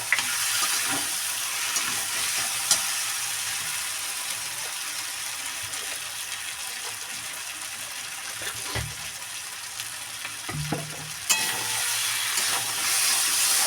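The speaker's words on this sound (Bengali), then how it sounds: "মাছটা দিয়েও মাথাটা দিয়েও কিন্তু একটু ভালো করে কষাতে হবে" Prawn heads and fried fish frying in a pan, a constant close sizzle and steamy hiss with occasional clanks and scrapes of stirring scattered through, no voices present.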